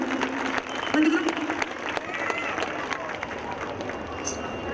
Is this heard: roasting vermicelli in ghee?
no